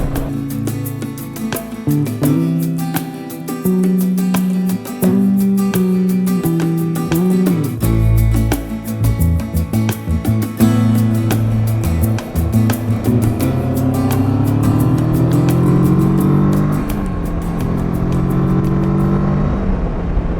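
A Kawasaki 650 motorbike ridden two-up along Cornish country roads; the engine drones loudly and steadily, its pitch rising and falling through gear changes.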